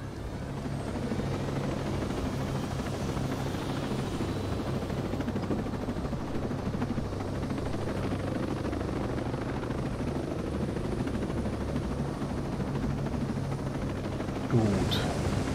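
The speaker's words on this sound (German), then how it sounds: "Im Heli sind wir am schnellsten da, denke ich." A helicopter's rotor and engine drone steadily and loudly throughout in a video game, with a brief sharper noise near the end.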